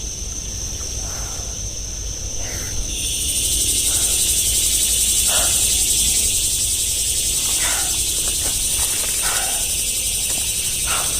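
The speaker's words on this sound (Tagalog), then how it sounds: "Tingog ng mga kuliglig mo kayo." Crickets chirp at dusk in a dense, continuous high buzzing chorus that swells after a few seconds, with faint scattered rustles and knocks beneath it.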